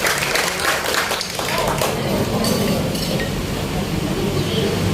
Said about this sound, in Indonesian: terima kasih tepuk tangan lagi buat narasumber kita